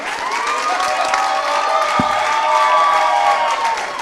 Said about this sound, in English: Y'all can clap better.